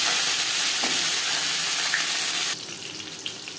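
Pieces of gathi kochu (taro) fry in oil in a pan, making a loud, steady, close sizzle that suddenly drops to a softer crackle partway through, with no voices.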